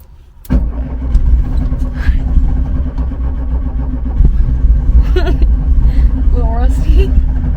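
A 1965 Volkswagen 21-window Bus, with its e-brake off, pulls away while its air-cooled engine rumbles steadily and close. The engine starts loud and holds a constant drone, and someone talks over it in excited bursts.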